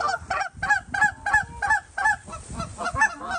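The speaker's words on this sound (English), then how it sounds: "Some more geese coming?" Canada geese honking in a repeated, rhythmic series of loud, nasal calls, several birds overlapping close by outdoors during a goose hunt.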